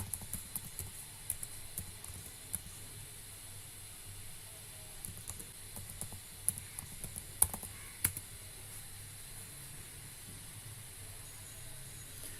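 Someone types a question on a computer keyboard: soft, irregular key clicks in short bursts, close and fairly quiet against a faint hiss.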